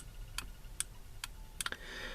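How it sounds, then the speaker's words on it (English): A Nerf Rapidstrike blaster's pusher control switch clicks faintly and close up, a handful of sharp irregular ticks over a quiet background. "know if that sound is coming through of the pusher control switch clicking"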